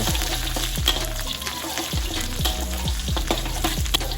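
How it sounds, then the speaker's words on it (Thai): Steady sizzling of garlic frying in hot oil, with repeated low thumps of a utensil against a pan every half second or so. "น้ำมันเริ่มร้อนแล้วนะครับ แล้วก็ใส่กระเทียมลงไปเจียว"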